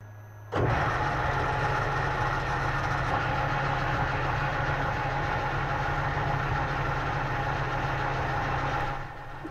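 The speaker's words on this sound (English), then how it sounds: "We're going to give that a go and turn it down on the lathe." A metal lathe turning a brazed silicon bronze shaft starts abruptly and runs with a steady loud mechanical whir and cutting noise for several seconds, then winds down near the end.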